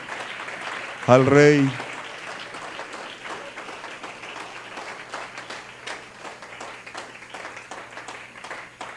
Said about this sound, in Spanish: dele ese aplauso con alegría